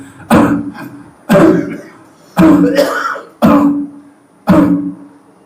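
Five separate coughs, each a short harsh burst, spaced about a second apart with brief silence between them.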